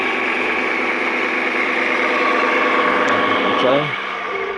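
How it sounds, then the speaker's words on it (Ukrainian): Corn sheller driven by an old Soviet washing machine motor, a loud steady electric hum and whine running close up, then dropping in pitch as it winds down near the end. "звичайний мотор від е, старої СССРської машинки пральної"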